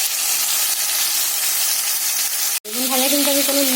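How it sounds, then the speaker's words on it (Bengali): Eggplant fries in mustard oil in a pan with a continuous close sizzle, which breaks off briefly near the end before a tonal hum and renewed frying noise take over. "বেগুনটা আরেকটু ভাজবো, ভেজে তুলে নেবো।"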